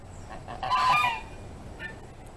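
A goose honks once, a loud nasal call up close, followed by a fainter shorter honk against a steady outdoor background.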